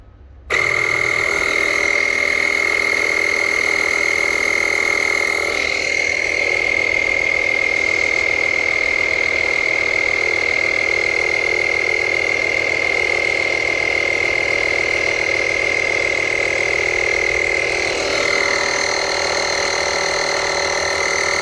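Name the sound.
Lokithor JA301 jump starter air compressor pumping up extinguisher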